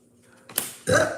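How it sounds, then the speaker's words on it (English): A person lets out a double burp, two close rough belches in quick succession, the second one louder and longer. "That's that double burp again."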